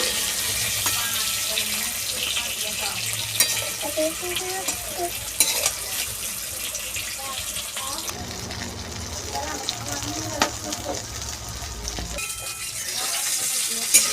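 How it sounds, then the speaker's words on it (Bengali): Eggplant slices sizzle in hot oil for a Bengali begun bhaja, a steady broadband frying hiss with scraping stirs and turning, alongside running tap water, moderately loud throughout. "বেগুনগুলো লাল লাল করে ভেজে নেবো দু সাইডে।"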